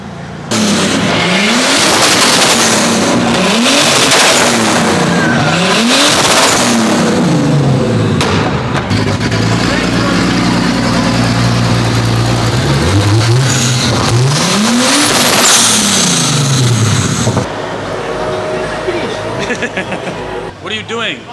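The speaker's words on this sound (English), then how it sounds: "Burnout." An old BMW car doing a burnout, its engine revving loudly and repeatedly in rising and falling surges, with sustained tire screeching close by and people talking over it.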